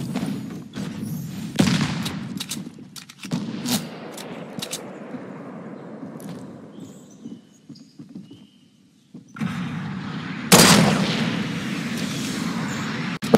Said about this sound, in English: Oh, another rocket.